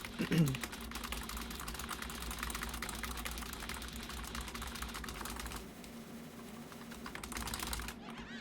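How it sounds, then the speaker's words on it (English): Rapid, continuous computer keyboard clatter from piano-style key mashing during an Undertale game, a dense, steady stream of quiet clicks with a brief louder bump at the start and a softer stretch near the end. "anyone who's been meticulously studying the sounds of my keyboard may have noticed that the sounds are slightly different because I'm trying piano mashing"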